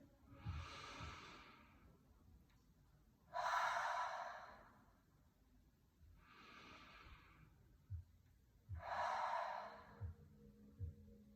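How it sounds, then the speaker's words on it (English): Slow, deep breathing during a guided mindfulness and yoga session: long airy inhales through the nose and exhales out the mouth, three broad swells with quiet gaps and soft low thumps between, close and fairly faint, with no talking. "We'll take 3 more breaths like this."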